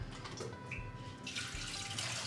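Water pours out of a kombucha brewing container into a sink in a steady splashing stream, close and continuous.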